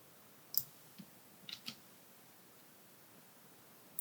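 Computer keyboard keys clicking in a handful of sparse, soft taps with gaps between them, faint against a quiet room background.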